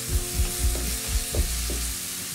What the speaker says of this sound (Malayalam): അത് നമുക്ക് നന്നായിട്ടൊന്ന് മിക്സ് ചെയ്ത് കൊടുക്കാം.